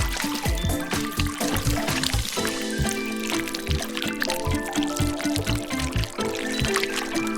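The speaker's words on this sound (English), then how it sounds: "Now pour some melted wax over it in different colors." Melted colored wax poured over a candle into water makes a continuous trickling, splashing pour, close and fairly loud, over rhythmic background music.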